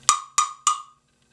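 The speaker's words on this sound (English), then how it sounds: "So the bigger block makes a deeper noise" Three evenly spaced hits on a larger plastic wood block, each a close, hollow knock with a deeper pitch and a brief ringing tail before the clip falls quiet.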